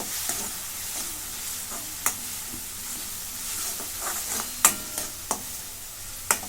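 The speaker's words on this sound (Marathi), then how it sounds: "मिरची कोथिंबीर आलं लसूण आता परतून घेते म्हणजे कच्चा पाना जाण्यासाठी" Green chilli, coriander, ginger and garlic sauté in a pan with a continuous sizzle, punctuated by scattered scrapes and clicks of a spatula at irregular intervals, close and alone.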